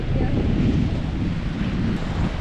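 Storm wind of around 20 m/s, with rain, roars steadily and buffets the microphone in a dense, unbroken rush of noise.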